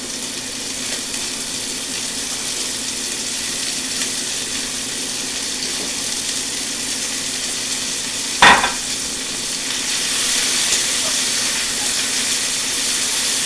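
Bacon sizzling in a pan, a steady close frying hiss that continues throughout, with one brief sharp knock partway through and the sizzle swelling slightly near the end, no talking.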